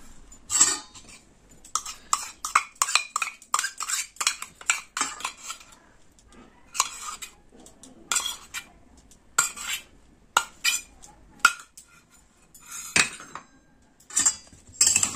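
Cauliflower being mixed by hand with whisked yogurt and spices in a bowl, irregular clinks and scraping of utensil against dish in short repeated bursts, close and moderately loud.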